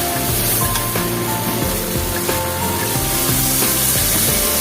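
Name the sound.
water poured into pan of sautéed vegetables for tangra fish curry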